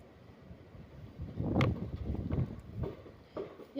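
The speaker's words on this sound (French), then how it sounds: "Il y a du vent." Gusty wind buffets the microphone in low rumbling surges, swelling strongest midway through, with no voices.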